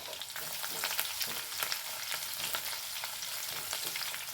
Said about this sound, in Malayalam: കുറച്ച് വെളുത്തുള്ളി ഇട്ട് കൊടുക്കുന്നുണ്ട് ഒന്നലക്കി ഇളക്കി കൊടുക്കാം കേട്ടോ